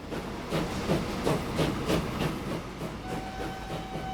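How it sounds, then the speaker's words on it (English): Train running in Transport Fever 2, a rhythmic clatter of wheels over rail joints with a hissing undertone, moderately loud and steady throughout. "Just watch the train."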